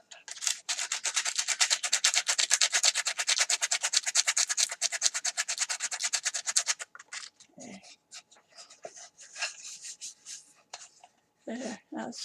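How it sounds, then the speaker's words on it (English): Sandpaper rubbed by hand over wood to sand a filled spot flush on a wooden box, a fast, even back-and-forth scratching for about seven seconds, then quieter scattered rubs and handling noises. "and you just sand it down."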